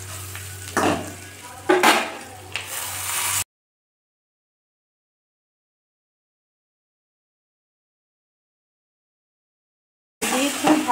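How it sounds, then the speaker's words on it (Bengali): Boiled taro leaves tossed with chili powder and spices in a pan: a few seconds of close scraping, clattering and soft sizzle, then a long stretch of silence before a brief return of the same scraping. "দিয়ে খুব ভালো করে নেড়ে চেড়ে আমার এখানে মিশিয়ে নিতে হবে কচুর পাতার সঙ্গে মশলা।"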